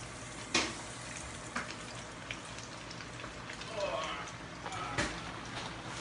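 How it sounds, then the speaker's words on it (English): Pork milanese frying in a pan on a gas stove, a steady low sizzle running throughout with a few brief crackles and spatters, moderately quiet and close. "So we're gonna start frying here."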